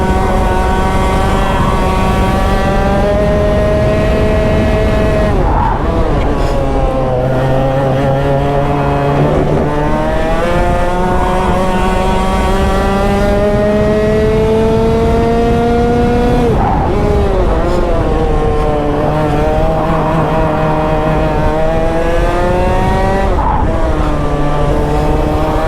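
A competition racing kart engine screams around a track at a fair, continuously loud and close, with rising revs through each straight, brief drops and shifts in pitch at corners, then climbing again over the whole run.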